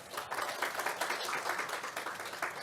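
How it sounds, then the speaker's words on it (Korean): At the 16th Jeju Forum climate session, the audience applauds the moderator, presenters and panelists on stage: a soft, fairly distant, continuous patter of clapping lasting a few seconds. "다시 한번 무대 위 좌장, 발표자, 토론자께 큰 박수 부탁드립니다."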